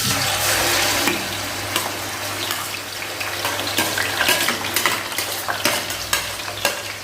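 Green chillies fry in a pan for a crab curry, a steady close sizzle and crackle with scattered spatters and stirring scrapes running throughout, no voices.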